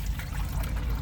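Water pours steadily into a pot for cooking rice inside a car, a short continuous splashing stream heard up close with no voices.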